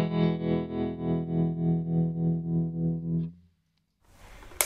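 Guitar played through a Gravitas tremolo pedal, a sustained chord pulsing in a steady rhythmic throb of about ten swells before cutting to silence, followed by a faint noisy rustle at the end.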